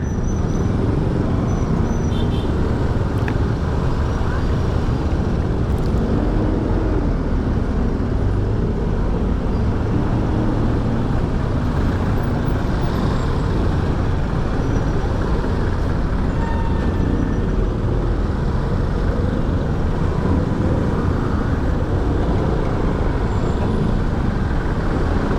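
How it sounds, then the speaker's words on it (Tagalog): Heavy road traffic on a congested route to Malolos, Bulacan, with a dense, constant rumble of cars, buses and trucks and occasional air-brake hisses, loud and steady throughout with no talking. "So ito traffic dito ngayon."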